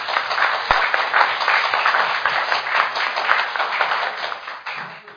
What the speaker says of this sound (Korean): 다시 한번 큰 박수 보내주시기 바랍니다